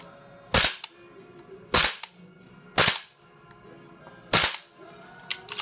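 A WE XM177 gas blowback airsoft rifle dry firing, four sharp mechanical snaps at uneven intervals of roughly a second, close and crisp with faint handling noise between them.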